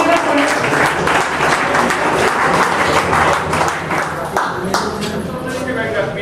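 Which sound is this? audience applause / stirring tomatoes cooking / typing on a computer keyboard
audience applause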